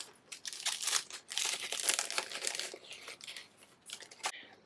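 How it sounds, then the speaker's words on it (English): A small plastic bag holding Winsor & Newton willow charcoal sticks crinkles as it is handled and opened, producing soft, close bursts of crackling with short pauses between them. "And they come in this little plastic bag."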